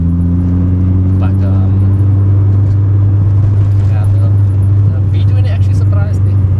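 Honda B20 turbo car driving, a loud steady low engine drone with strong harmonics held throughout from inside the car, with a brief rising whine near the start and people talking over it.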